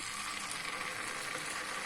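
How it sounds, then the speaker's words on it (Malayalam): Palappam batter hits a hot, oiled dosa griddle, giving a steady close-up sizzle with a soft crackle that holds for about two seconds. "ഇതിലേക്ക് നമുക്ക്"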